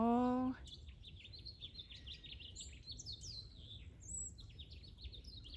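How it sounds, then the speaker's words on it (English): Several birds chirp and tweet in a garden during nesting season, with repeated high, bright calls scattered through the clip over quiet outdoor background after a brief opening voice. "the birds are going back and forth because they're going to start nesting"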